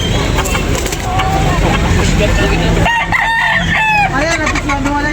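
A rooster crows loudly and close at a busy chicken market in Cebu, the long call rising over a dense background of clucking fowl and general crowd noise, with people talking nearby.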